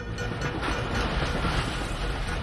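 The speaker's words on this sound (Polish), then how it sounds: "A usłyszałem pociąg." Train in the video game Dishonored rumbling past, a steady loud mechanical roar with faint rhythmic clatter held for a couple of seconds, no speech over it.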